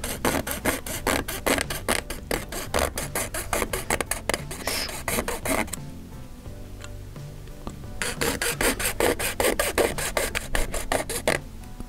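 A plastic model tank part is sawn or cut with rapid, rhythmic rasping strokes, steady and close, pausing for about two seconds before the rasping resumes, with no talk.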